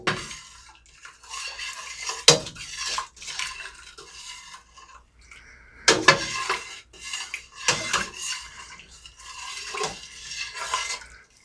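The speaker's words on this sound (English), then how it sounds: "So we'll just go ahead and give that a stir." Hot berry wine must with sugar is stirred for mixed berry wine, making scraping, swishing strokes and sharp metallic clinks of a utensil against a pot in irregular bursts, close and clear.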